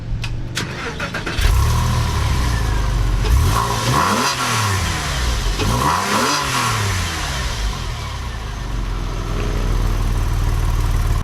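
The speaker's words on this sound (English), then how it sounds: "And when you insert your key, it starts up the car." A Porsche 911 996 Cabriolet flat-six starting with a starter whirr and catch, then blipping twice with rising and falling revs before settling into a steady, close idle, with no talking.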